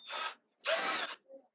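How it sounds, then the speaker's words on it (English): Two short bursts of a power drill boring pilot holes into thin wood, whirring up and stopping, followed by a brief faint mechanical whine. "it was important to drill pilot holes and countersink them"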